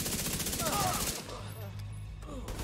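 Rapid automatic gunfire in a video game rattles for about a second in a fast, even stream, then stops and leaves quieter game sounds and a low hum behind.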